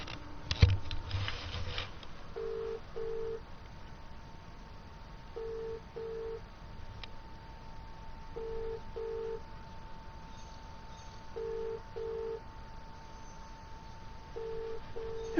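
Phone keypad tones sound in evenly spaced pairs of short beeps, repeating about every three seconds against a low steady hum, with a brief rustle at the start and no talking.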